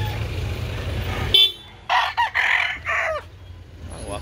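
Rooster crowing at a chicken farm in Carbon, Cebu City, a few loud close calls rising in a burst after a steady hum of background noise, with a brief sharp knock just before.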